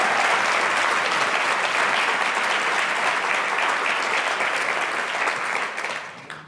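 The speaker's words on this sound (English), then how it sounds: "Can we please have another round of applause for our in-kind support providers" A full round of crowd applause at a social innovation challenge award ceremony, steady dense clapping from many hands for about six seconds, tapering off at the end.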